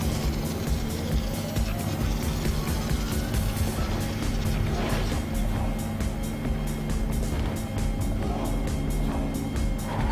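Game car engine from Trackmania driving backward, a steady loud motor drone with shifting pitch sweeps and a busy background soundtrack running throughout.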